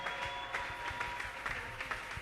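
A congregation at a prayer marathon applauds the Lord, steady dense clapping running throughout with a few stronger bursts, fairly close and continuous with no speech over it.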